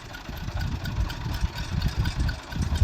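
A Romanian-made Farmer 533 tractor engine with a turbo idles nearby with a low, steady, chugging rumble that pulses slightly, no voices.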